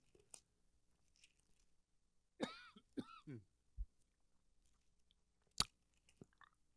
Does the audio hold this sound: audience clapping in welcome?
no